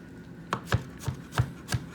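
A knife chops strawberries on a board in a home cooking class, five quick, crisp knocks in an uneven rhythm, close and fairly quiet, with no talk.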